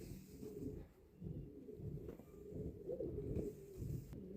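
Pigeons at a family home in Asaka, heard as soft, low, murmuring coos that keep up steadily and close by, with no voices over them.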